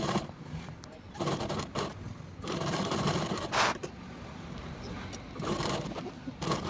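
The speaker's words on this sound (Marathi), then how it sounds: "इथं एक्स्ट्राचं कापड आहे त्याला पण शिला मारून घेते टीप मारून घेते" A sewing machine stitches blouse fabric in several bursts of running, with short pauses between them, loud and close.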